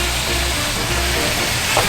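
Beef sizzling in a hot pan while it is flipped and stirred around, a dense continuous loud frying hiss with faint scraping, no voices.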